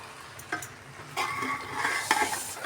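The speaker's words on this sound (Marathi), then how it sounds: "आणि असं कोथिंबीर टाकल्यानंतर एकदा त्याला हलवून घेणार." Masale bhat, a spiced Maharashtrian rice, stirred in a pot after coriander goes in, with a close sizzle and scraping, clinking spoon strokes that grow louder toward the end.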